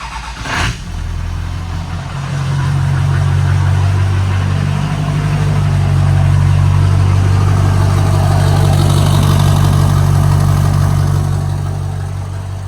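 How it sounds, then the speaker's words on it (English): An LB7 Duramax diesel engine with an S300 turbo idles steadily nearby with a deep rumble and a rapid ticking clatter from excessive rail pressure, briefly rising in pitch before settling into a continuous drone. "If you hear a clacky sound, that is from excessive rail pressure"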